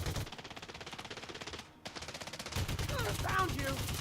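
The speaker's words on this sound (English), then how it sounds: "I'm shooting my own shields." Ship weapons in the Elite Dangerous space game fire in rapid, continuous automatic bursts, loud and close, with a brief pause before heavier firing resumes along with synthetic chirping effects.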